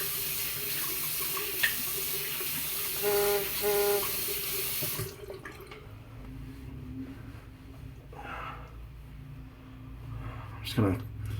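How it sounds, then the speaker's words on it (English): Tap water runs steadily for about five seconds while a man rinses witch hazel off his freshly shaved head at a sink, then cuts off, leaving quieter room sound and faint handling noises. "I'm gonna rinse off the witch hazel."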